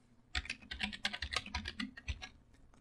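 Rapid keystrokes on a computer keyboard as a folder name is typed, a close, steady run of clicky taps lasting a couple of seconds with no talking.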